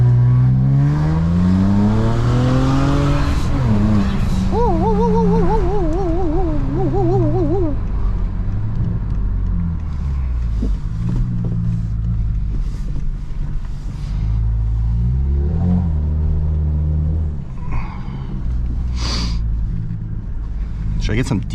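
A BMW with a stock exhaust and no burble tune, driven along with its engine droning steadily while sharp pops crackle out intermittently, with people talking loudly over it in the cabin.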